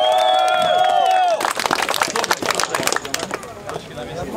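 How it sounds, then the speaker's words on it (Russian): A live audience at a boxing event breaks into applause after a spoken announcement, a dense patter of clapping that swells and then tapers off, with voices talking over the start. "Аплодируем Никите!"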